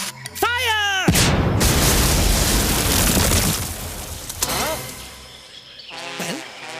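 A Chinese powder firework bursts with a loud, broad blast that roars on for a few seconds, with whistling, chirping cartoon-like tones before and after it.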